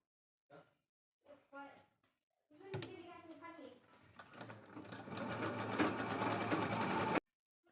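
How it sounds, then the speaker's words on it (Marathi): Fabric pieces for a bag bow are stitched on a sewing machine, which whirs close and loud for about four seconds, building speed, after a few brief soft sounds at the start. "ह्याच्यावरती आपल्याला इथं टिप मारून घ्यायची आहे"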